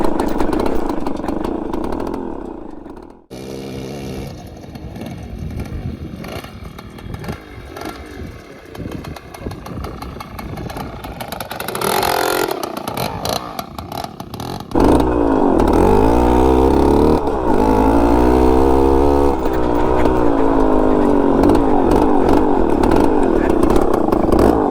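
A Suzuki Max 100 motorcycle converted to a dirt bike revs loudly and close by, its engine rising and falling in pitch, then holding a steady, heavier roar for the last stretch. Someone talks beneath the engine noise.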